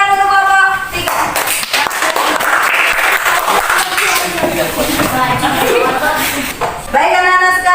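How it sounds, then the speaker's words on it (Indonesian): A classroom of students claps for group 3 during an Islamic religious education lesson, a dense, steady burst of many hands that swells and holds for several seconds before tapering off. "Beri tepuk tangan untuk kelompok 3."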